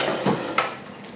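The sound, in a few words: pulling out a desk drawer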